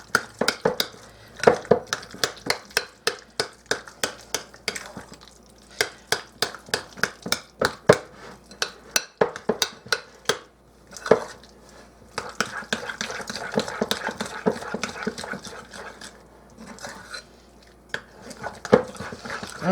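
Spoon working cottage cheese in a bowl for a spaghetti casserole, producing rapid, close clacks against the bowl in uneven bursts with brief pauses, no talking.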